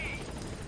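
A helicopter in the video game Metal Gear Solid 5 gives a steady, faint rotor drone with a rhythmic chop, heard as one continuous stretch of noise.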